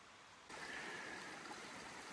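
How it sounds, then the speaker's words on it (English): High Creek, a mountain stream in the San Gorgonio Wilderness, rushes with lots of water, a steady broadband wash that swells in suddenly after a half-second and holds close and loud, with no voices. "Made it to High Creek, and lots of water."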